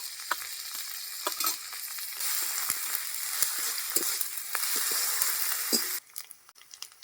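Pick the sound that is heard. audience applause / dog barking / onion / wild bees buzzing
onion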